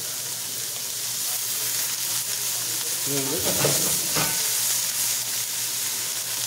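Liquid hits a hot pan of chicken, peas and carrots, setting off a loud, steady sizzle with a brief splashing burst midway, close up and continuous throughout.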